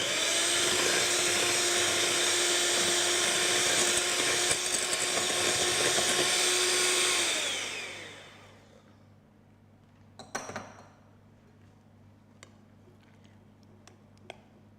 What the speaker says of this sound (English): you beat it with the electric beater until it has a homogeneous or smooth texture again